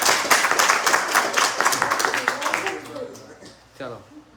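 A live audience claps for Rajiv at an evening devotional program in New Jersey. The applause is dense and steady at first, then thins out and fades to scattered claps near the end.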